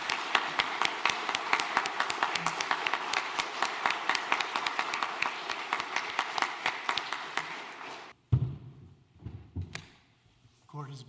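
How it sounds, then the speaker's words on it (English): Audience applause for the finalists at a law school moot court final, sparse individual claps for about eight seconds before stopping, then a door thud and shuffling in a quieter room. "I ask that you join me in giving a big round of applause to our finalists"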